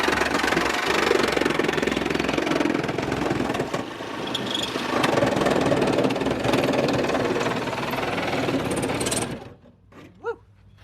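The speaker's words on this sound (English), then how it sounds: "this poor Sawzall unit is just vibrating itself to pieces" A Sawzall reciprocating saw, cutting into a race car, runs loud and steady with a harsh rattling vibration for about nine seconds, then cuts off into near silence with a few faint clicks.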